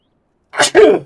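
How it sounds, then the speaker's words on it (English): A single close, loud human sneeze, a sharp breathy intake bursting into a voiced blast, heard alone with no other sound around it. "Oh crap, I need to sneeze."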